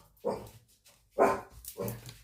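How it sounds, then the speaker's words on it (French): A small dog, a female, barks three times in close succession, sharp and fairly loud nearby, with short gaps between yaps and no talk over them. "Excusez-moi, c'est ma petite chienne."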